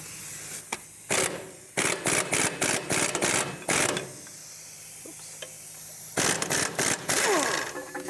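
A power tool with a 14mm socket works the nut on a 1997-2001 Lexus ES300 rear strut, loud rattling bursts in several runs separated by pauses, up close.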